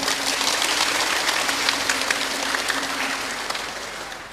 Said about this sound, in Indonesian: Kita boleh tepuk tangan lagi.